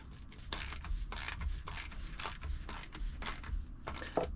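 A Sea-Doo jet ski oil filter canister being screwed back on by hand, with a repeated ratcheting, grinding mechanical rasp in short strokes, close and fairly quiet.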